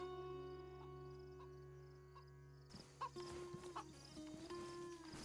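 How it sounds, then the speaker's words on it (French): A chicken in the video game DayZ, set on the Livonia map, clucks several times in short, fairly quiet bursts over a steady low game ambience, with a few scattered soft noises. "il y a une poule à côté"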